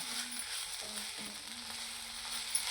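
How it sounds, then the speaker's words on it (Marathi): Green tomato bhaji with a sprinkle of coriander being stirred in a pan, giving a faint, steady low sizzle with a soft scrape near the end. "आणि वरून थोडीशी कोथंबीर टाकायची आणि त्याला मस्तपैकी हलवून घ्यायचं"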